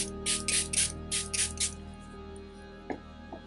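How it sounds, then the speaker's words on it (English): Several quick bursts from a bottle of makeup setting spray hiss in succession, a short mist sprayed repeatedly at close range onto a face, then quiet with a faint click. "I'm just going to spray this all over my face"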